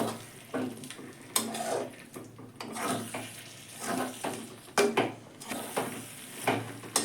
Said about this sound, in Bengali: এতে আমি আলুটা দিয়ে দিলাম আলুটা দিয়ে একটু কষে নেব